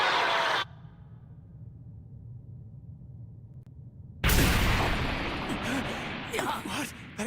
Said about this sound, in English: That explosion came from just down the hall!